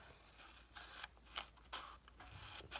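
Scissors cutting paper card into squares for a box lid, several short crisp snips close by in an otherwise quiet room.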